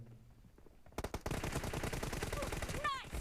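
Gunfire in PUBG Mobile: after a quiet opening, a dense, rapid automatic volley breaks out and rattles on steadily, loud and close, ending with a brief whistling sweep.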